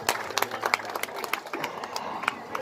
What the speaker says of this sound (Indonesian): Tepuk tangan dulu untuk Kampung Bule